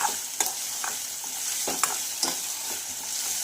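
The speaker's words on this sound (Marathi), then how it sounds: "त्याचबरोबर यामध्ये टोमॅटो सुद्धा घालायचा आहे आणि हे सर्व जिन्नस आपल्याला छान असे परतून घ्यायचे आहेत" Onion and tomato sauté in a pan with rhythmic spatula strokes and scraping over a continuous close sizzle, with no talking.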